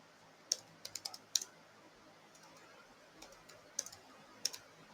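Sparse keystrokes tap on a computer keyboard, a few quick clicks in small bursts with pauses between, quiet and close in an otherwise still room.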